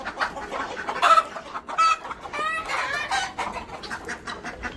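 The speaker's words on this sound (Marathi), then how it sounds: "तिकडे आतमध्ये सुद्धा कोंबड्या आहेत भरपूर।" Country chickens cluck on a poultry farm, several birds overlapping in irregular bursts at close to middle distance, with no voices present.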